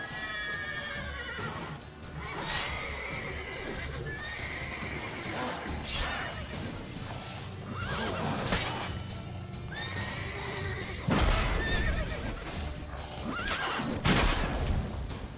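Horse in the video game Witcher 3 whinnies repeatedly over a busy game soundscape, with clip-clopping hooves and sharp bursts of louder action near the end.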